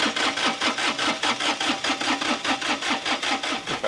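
A Kubota three-cylinder diesel in a hydrostatic Jacobsen reel mower runs at full throttle, a loud, close, rapid rhythmic chug with an even pulsing beat throughout.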